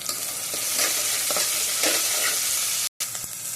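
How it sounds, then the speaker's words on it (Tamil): Tomatoes and a few garlic cloves sauté in a hot pan with oil, giving a steady bright sizzle, with occasional scrapes and stirs from a spoon and a brief gap near the end. "தக்காளி போட்டுக்கிறேன். அதில் வதங்கட்டும்."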